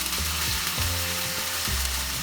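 Chicken pieces frying over high flame in a teaspoon of sesame oil, a steady close sizzle with soft scraping and stirring knocks from a utensil, no voices.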